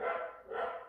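Two quick dog barks in succession, close and moderately loud, heard alone without talk.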